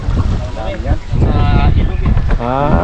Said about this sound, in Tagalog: Malakas pa rin ang amihan.